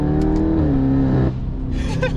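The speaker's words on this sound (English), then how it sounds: "if I were to downshift and give it some gas," A BMW F10 550i's engine and exhaust rev hard on a downshift, a loud, close droning roar that rises in pitch, then drops away into a lower rumble with faint crackle.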